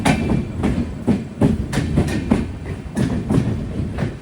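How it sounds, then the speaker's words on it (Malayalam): The Ernakulam–Bengaluru Express rolls into Ottapalam railway station at night, wheels beating out a loud, regular clickety-clack over the rail joints, with no voices. "ഏഴ് 6 ട്രെയിനിപ്പോൾ ഒറ്റപ്പാലം റെയിൽവേ സ്റ്റേഷനിലേക്ക് എത്തുകയാണ്"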